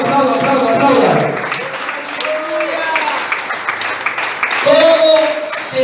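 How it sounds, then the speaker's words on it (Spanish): A church congregation claps in applause through a worship service while a preacher keeps calling out over them, the clapping continuous and fairly loud under the voice. "Aplauda al que vive. Aplauda, aplauda, aplauda, aplauda, aplauda."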